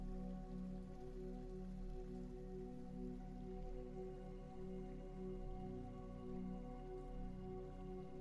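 Gentle rain drops falling across dark water, a constant quiet patter with no breaks, layered over a calm, sustained humming drone.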